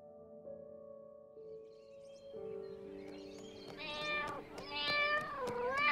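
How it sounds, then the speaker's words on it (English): Cat meowing, several drawn-out rising and falling cries growing louder toward the end, layered over soft tonal background sound. "Meow, meow."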